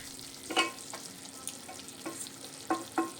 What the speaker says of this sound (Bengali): মাংসটা কিন্তু এখনও পুরোপুরি কষানো হয়নি, আরও কিছুক্ষণ এইভাবে নেড়ে চেড়ে আমি কষতে থাকবো